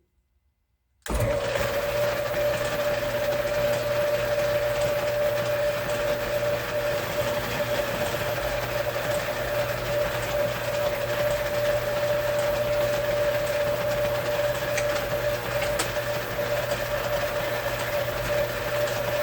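A metal lathe turns a 4140 steel bar into a bushing for a Case D front end repair. After a second of silence it starts up, and a loud, even machine hum with a constant whine carries on throughout.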